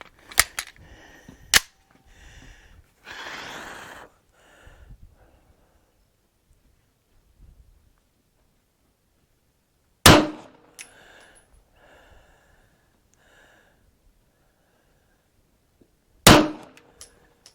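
An XD9 Tactical pistol fitted with a red dot sight fires at a target 15 yards away, with loud sharp reports: a quick pair and another shot at the start, then two more single shots well apart, separated by quiet handling sounds.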